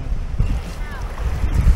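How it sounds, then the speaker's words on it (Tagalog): Strong Pacific waves churn at a tidal pool in Casiguran with a steady low roar, and gusty wind buffets the microphone throughout. "malakas na yung alon"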